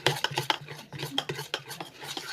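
A spoon stirs chocolate cake batter in a bowl with quick scraping and tapping strokes in an uneven rhythm, heard up close with no speech.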